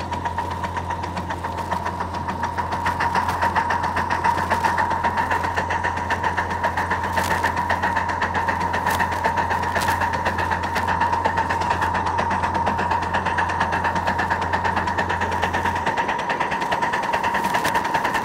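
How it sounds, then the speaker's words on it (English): A steam locomotive's air compressor runs close and steady, a continuous mechanical drone with a rapid knocking pulse that stops near the end while the engine's hum carries on, no talking. "air compressor didn't run long"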